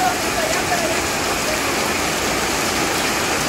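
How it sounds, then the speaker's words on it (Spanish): Heavy rain in a foggy mountain setting: a dense, constant roar of downpour, loud and steady throughout. "Y está lloviendo fuerte."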